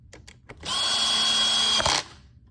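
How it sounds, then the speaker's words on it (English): Cordless power drill driving a screw into a Hoover SteamVac during a repair, a few faint clicks and then a steady whirring burst lasting over a second before stopping abruptly. "And grab my drill."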